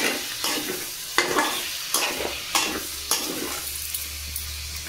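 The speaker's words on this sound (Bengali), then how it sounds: "ভালো করে আমি নেড়ে চেড়ে নেবো বন্ধুরা।" Chicken stirred in a pan with cumin powder, turmeric, salt and Kashmiri chilli powder, a spoon scraping in regular strokes about every second over a low, continuous frying sizzle.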